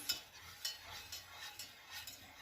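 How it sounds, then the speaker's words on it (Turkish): A spoon stirs grated tomato in a pot for tomato soup, giving soft, repeated scraping strokes at a steady rhythm, faint and close with no talking. "Evet arkadaşlar böyle karıştırıyoruz"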